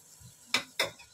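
Peshawari-style mutton nimkeen cooking in a pan, with a faint low sizzle beneath two sharp scraping strokes of a spoon stirring the meat, close and distinct.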